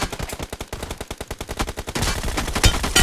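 Rapid automatic gunfire rattles in a fast, steady burst in PUBG team deathmatch, then merges into heavier, denser overlapping shots for the last second.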